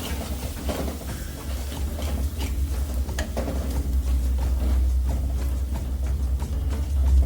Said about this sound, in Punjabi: ਹੁਣ ਅਸੀਂ ਇਹਨੂੰ ਤੜਕੇ ਨੂੰ ਮਿਕਸ ਕਰ ਦਵਾਂਗੇ